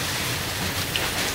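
Water spray rinses a boat deck at sea, a dense, steady hiss of water hitting the surface that stays close and loud throughout the short moment.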